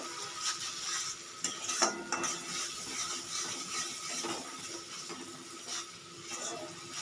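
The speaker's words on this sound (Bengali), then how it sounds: "খুব ভালো করে কষিয়ে নিয়েছি মশলাটা।" Masala paste for mung dal and paneer kofta curry being stirred in a pan, with soft scraping and clinks of a spoon against metal over a faint sizzle, close and steady, no voices.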